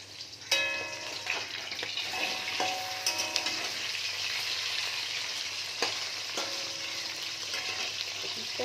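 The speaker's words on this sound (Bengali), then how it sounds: "উঠিয়ে দিলাম ওপিটটাও আমি ভেজে নেবো ভালোভাবে" Large pieces of katla fish frying in oil in a pan, a constant close sizzle with occasional sharp ticks and scraping clinks from turning the pieces.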